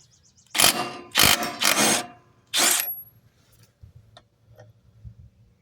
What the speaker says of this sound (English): I'm just going to be using a impact to take it off.